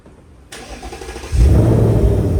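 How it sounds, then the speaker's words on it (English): A 2024 Ford Mustang GT with the 5.0 V8 starts by remote key fob: a starter whirr, then the engine catches with a loud, deep burst and settles into a rumbling idle, close by with no talk. "And now the engine is started up."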